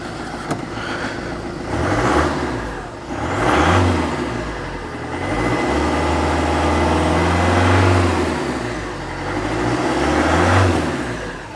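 A Berlingo van engine with a newly fitted exhaust runs close by, rising and falling through several revs and then settling back to a steady idle between them.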